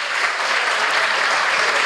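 Applause from the audience at the close of an Italian talk on language skills in economics and law, a dense, loud, continuous wash of clapping filling the room with no voices.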